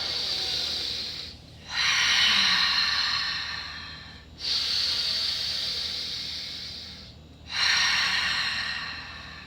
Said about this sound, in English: See, I just by taking 2 deep breaths, I just calmed my nervous system down